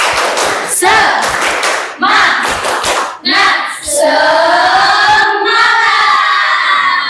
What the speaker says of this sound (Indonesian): beri tepuk semangat dulu untuk kita semua. Tepuk semangat.